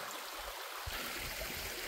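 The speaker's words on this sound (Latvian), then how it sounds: "ar apkopotiem, sakopotiem spēkiem jau šis avotu ūdens ietek iekšā ezerā" Spring water at the Krāku springs flows into a lake, a faint, steady trickle and burble heard alone and quietly throughout.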